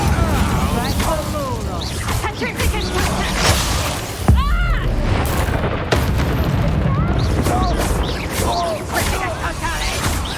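Incendio fire spells cast over and over in Hogwarts Legacy, fiery bursts and booms mixed with chaotic combat noise, with one heavy impact near the middle and a character voice calling out spells.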